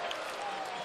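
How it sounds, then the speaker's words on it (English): A basketball arena crowd roars and applauds after a slam dunk in an NBA game between Detroit and Washington, a brief, dense wash of cheering heard at a distance with a commentator's voice faintly mixed in. "But John Wall gets this crowd up off its seat and onto its feet."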